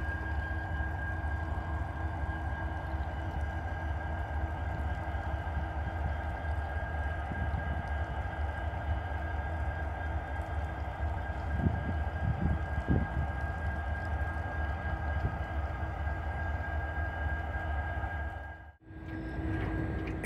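A freight train hauled by an SD70M2 locomotive passes along a river, a steady low rumble with a sustained tonal hum and a few louder clanks near the middle, then a brief dip at the end.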